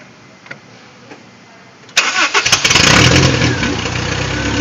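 A 2001 Honda CR-V with a 2.0L engine cranks briefly and catches, then settles into a loud, close, steady idle with the exhaust opened up.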